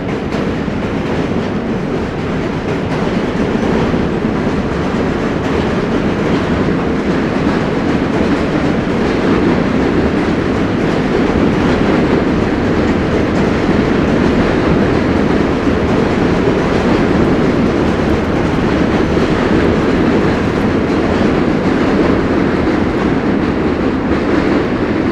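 A New York subway train crosses the Manhattan Bridge in a loud, continuous rumble with clattering wheels and steel roar that holds steady and close for the whole stretch, with no talking.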